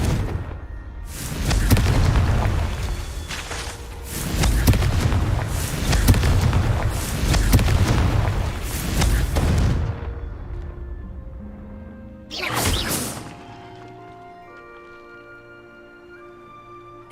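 Confringo blasting spells go off in Hogwarts Legacy as a rapid run of heavy, booming explosions, several in a row, with a single louder blast after a brief pause and lingering magical tones in between.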